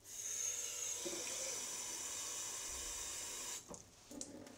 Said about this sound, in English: going to top that off with a little bit more water